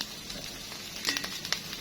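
Aromatic herbs for a lemongrass beef stir-fry sizzle steadily in a hot iron wok, a close, continuous hiss with a few brief sharper crackles and stirring scrapes near the end.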